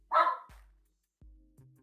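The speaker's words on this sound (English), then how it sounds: "My dogs barked, and then yours heard it, so now they're barking" Dogs at home bark in short bursts, one loud close bark followed by a fainter one, then a brief yip, with no talking over them.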